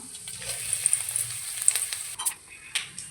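Fenugreek seeds and vadagam frying in hot oil as the base for a Tamil sardine fish curry, a fine crackling sizzle with scattered sharp pops and occasional stirring scrapes, close and fairly quiet.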